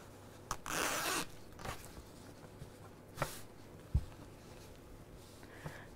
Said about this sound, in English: And then with the zip open,